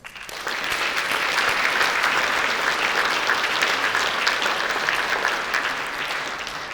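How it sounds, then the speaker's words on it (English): Steady audience applause for an award winner at an agricultural industry awards ceremony, a dense wash of clapping that holds for several seconds and eases off slightly toward the end. "let's give him applause"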